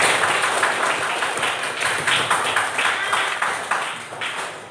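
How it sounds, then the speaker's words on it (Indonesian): Group applause in a classroom workshop, a bright, fairly loud wash of many hands clapping with a faint rhythmic pulse, continuing steadily without talk. "Tepuk tangan untuk kita."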